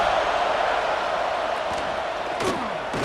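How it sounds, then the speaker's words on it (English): A dense stadium crowd roar in a college football video game, a steady loud wash of many voices rising together, with a couple of faint thuds underneath. "This crowd rising up, sensing that its defense needs some help."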